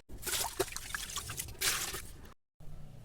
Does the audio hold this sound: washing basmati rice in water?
yes